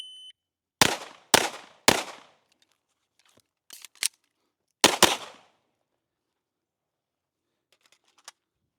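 Sharp gunshots crack at a tactical shooting class demonstration: a quick string of three, a pair, then another pair, each with a short decaying echo, followed by quiet and one faint final report.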